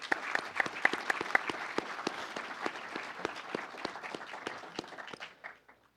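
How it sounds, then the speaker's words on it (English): Applause from a conference audience honoring a retired veteran, a scattered patter of claps with a few sharp single claps standing out, holding steady before thinning and fading out near the end. "So a round of applause."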